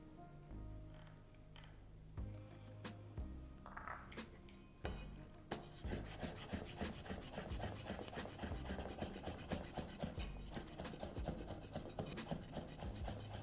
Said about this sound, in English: I'm going to finely slice this to go with your rice.